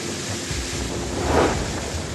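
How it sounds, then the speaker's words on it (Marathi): Unseasonal rain falls across Shirur and Ambegaon in Pune district as a steady, loud broadband hiss that swells briefly midway, with no thunder clearly evident and no voices. "पुणे जिल्ह्यातील शिरूर आंबेगाव तालुक्यातील अनेक भागातही अवकाळी पावसानं हजेरी लावली"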